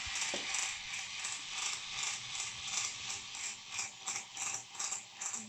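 A toy workshop drill whirs with a steady buzzing, ratcheting rattle while boring a hole, pulsing rhythmically throughout at moderate volume with no talk.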